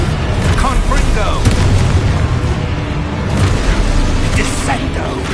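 Confringo spell explosions in Hogwarts Legacy amid rapid spell combat: a dense, loud, continuous rumble of booms and bursts, with voices shouting over the din.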